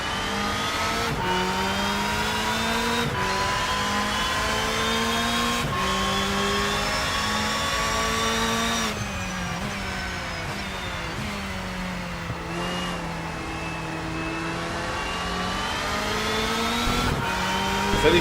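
Race car engine in the RENNSPORT racing game, a steady high-revving drone with rising and falling pitch through repeated gear changes, loud and close, with brief dips between shifts.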